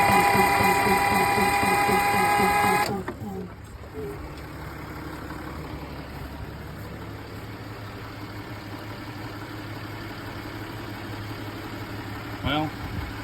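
An old white Constructor cement truck diesel, left sitting for over 25 years, cranks and catches, then settles into a steady rough idle with a mechanical rattle, loud and close, alone with no talking.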